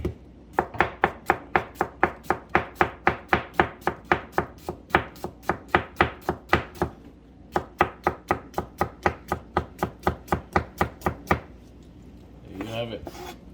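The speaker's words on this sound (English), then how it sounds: "Then we're gonna julienne our onions just like this" Onions julienned with a knife on a cutting board, a long rapid run of sharp, regular chops with a brief pause midway, ending in softer scraping near the end.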